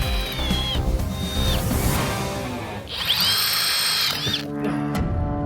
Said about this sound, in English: We got a 1/4 inch to go on the drilling